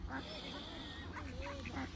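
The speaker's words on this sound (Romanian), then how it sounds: "Pasărea, vezi, face gălăgie." A duck at the water's edge in a park, with geese and pigeons nearby, gives a few short nasal calls in bursts over steady outdoor background noise.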